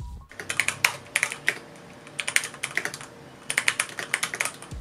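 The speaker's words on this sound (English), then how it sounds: "So here's how the keyboard sounds when typing." Typing on the keyboard of an MSI GT83VR Titan SLI gaming laptop: close, crisp clicky keystrokes in quick bursts separated by short pauses, with no voices.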